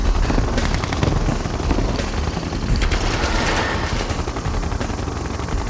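A Siege Chopper helicopter in Red Alert 2: Yuri's Revenge makes steady, dense rotor thumping, mixed with continuous rattling gunfire and a loud battle din throughout.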